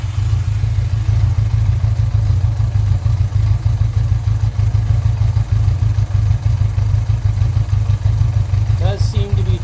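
A Honda Goldwing engine mounted on a go-kart runs loud and close with a deep, pulsing low throb and rattly clatter, and a voice speaks briefly at the end.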